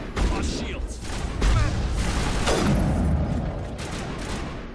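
Sci-fi weapon fire in the video game Mass Effect, a dense volley of booming shots and impacts under battle noise, with a voice speaking over it.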